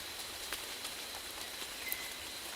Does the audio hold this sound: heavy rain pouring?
yes